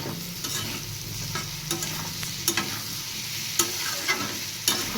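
Tomato pieces are stir-fried with potatoes for aloo posto, a quiet steady sizzle with repeated spatula scrapes and knocks against the pan at close range, and no one talking.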